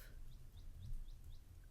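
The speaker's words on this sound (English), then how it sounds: "Do you hear the birds outside?" Small songbirds chirp outside, faint and distant, with a regular series of short high tweets over a low background rumble indoors.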